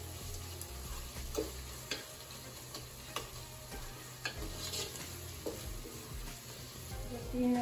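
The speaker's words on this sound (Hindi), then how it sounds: "इसे अच्छे से भूनेंगे।" Onions and ginger garlic paste frying and being stirred in a pan, a steady close sizzle broken by scattered spoon clicks and scrapes, with no talking.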